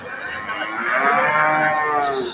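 A four-tooth cow, seven months pregnant and still giving milk, lets out one long, loud, close moo that swells in the middle and holds steady before fading, with no talk over it.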